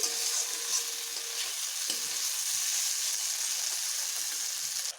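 Food frying in a pan with salt added, a steady close sizzle with light stirring scrapes running throughout, fading abruptly at the very end, no talking.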